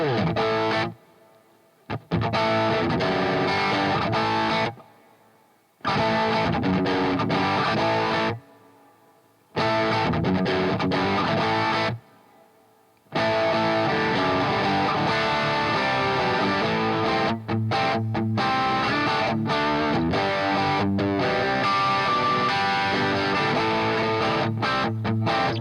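An electric guitar played through a studio amplifier's drive channel with added reverb gives a distorted, sustained tone in phrases broken by short silences, then plays steadily to the end without talk.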